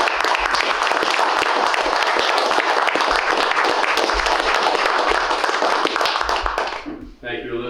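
An audience at a historical society open house gives a long, dense round of applause that holds steady for about seven seconds and then stops abruptly as a voice begins.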